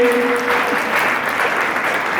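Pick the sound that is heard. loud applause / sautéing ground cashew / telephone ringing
loud applause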